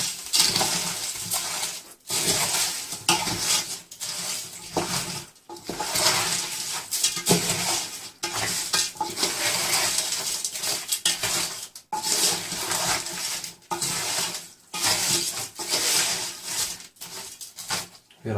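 A large batch of chicken biryani is stirred with 400 to 500 grams of fried onions in a metal pot, a spoon scraping and clanking steadily in repeated strokes, with a voice speaking over it.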